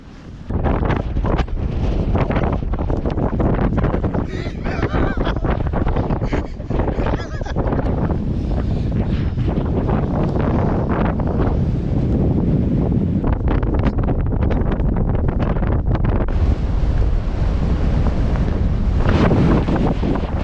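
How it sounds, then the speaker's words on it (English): Strong wind buffets the microphone on the North Wales coast during a beach casting session, a loud continuous roar with gusts and possible surf underneath, and no clear talk. "I tell you what, it was a windy one."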